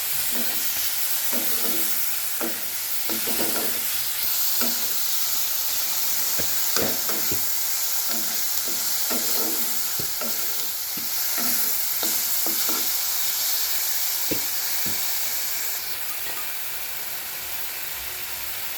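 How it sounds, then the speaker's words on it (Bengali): Spice masala stir-fries in a hot pan, a steady close sizzle and hiss throughout with repeated scraping strokes of the spoon against the pan, easing off near the end. "আমি এটাকে এখন ভালো করে মশলাটাকে ভালো করে কষে নেবো।"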